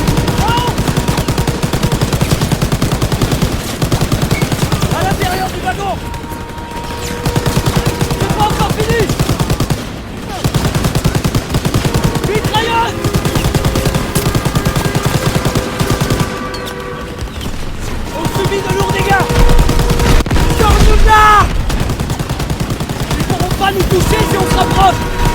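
Loud, continuous gunfire from the Call of Duty WW2 video game, with sustained machine-gun bursts and overlapping shots during a train assault, only brief dips in the barrage across the whole stretch.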